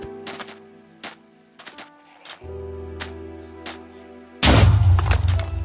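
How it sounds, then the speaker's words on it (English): A creeper explodes in Minecraft with a sudden loud blast that roars on for about a second, following a stretch of quiet, scattered game clicks and footsteps. "I heard a creeper explosion"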